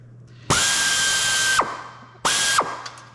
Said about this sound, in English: you match drill everything with a number 30, which is what I'm kind of doing here